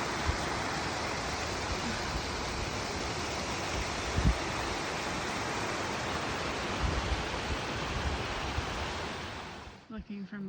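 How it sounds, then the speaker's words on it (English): Waterfall pouring into a small pool along Owen Creek toward Michelle Lakes, a loud, steady broadband rush that holds for about ten seconds before cutting off abruptly near the end. "Beautiful waterfalls, nice little pool."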